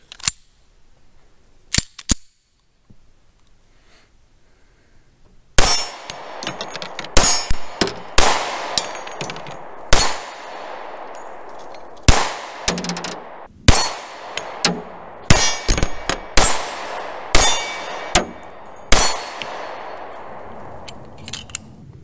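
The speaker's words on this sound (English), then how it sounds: "Let's go ahead and put some more rounds through it." Rock Island Armory BBR 3.10 shots ringing off steel targets outdoors, a string of sharp reports each followed by a metallic clang, after a few quieter knocks and a short pause.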